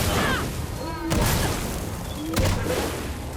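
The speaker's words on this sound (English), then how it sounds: "And then fires its cannon." Enemy cannon fire in the video game Clair Obscur: Expedition 33, two sharp broadband blasts about a second apart standing out over a steady bed of game music and effects, with someone talking in between.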